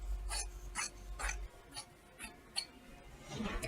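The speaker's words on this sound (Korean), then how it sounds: "자, 이렇게 80cm를 먼저 길게 잘라 놓습니다." Scissors cutting dress fabric: a series of faint, sharp snips at a steady pace, close by, over a quiet room with low background rumble.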